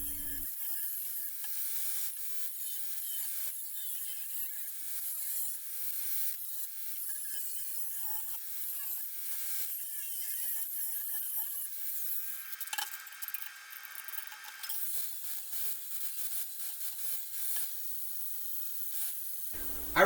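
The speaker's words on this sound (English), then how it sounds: "I removed the rust from the sheet." Continuous scraping and rasping as rust is worked off a metal sheet, a steady abrasive rubbing close by with occasional harder scrapes, no voices.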